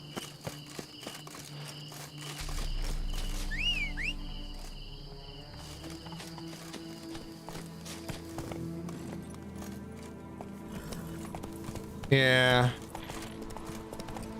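Hooves of the horse Roach clip-clopping across a bridge in a video game, steady footfalls under constant crickets and a game soundtrack, with a brief whinny-like burst near the end and someone speaking briefly.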